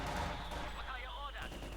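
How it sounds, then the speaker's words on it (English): Soviet mortar fire in Company of Heroes 2, a burst of explosive battle impacts with distant gunfire, heard beneath a commentator's voice. "half the unit going there to Soviet mortar fire"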